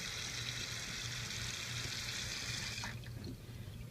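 Hot water runs from a tap at steady strength for soaking a cloth, then cuts off near the end, leaving faint trickles and drips.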